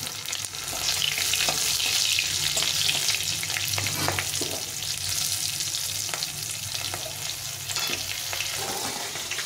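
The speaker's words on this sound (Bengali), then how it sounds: "আমি ফোড়নে দিয়ে দিলাম, একটু ভেজে দিতে হবে" Spices and green chillies fry in hot tempering oil, a loud, steady sizzle crackling throughout with occasional stirring scrapes and clicks.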